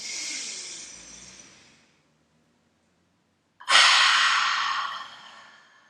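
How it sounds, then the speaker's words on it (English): Two long, deep breaths in a kids' rainbow-breath yoga exercise: a steady breathy inhale, a pause of silence, then a stronger, louder breath that slowly fades, close and clear with no talking. "Deep breath in."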